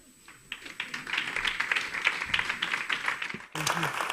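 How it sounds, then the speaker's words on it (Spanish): An audience claps at a meet-and-greet event, a dense patter of many hands building after a quiet start and holding for about three seconds before a voice begins speaking over the room. "Ya que estáis aplaudiendo"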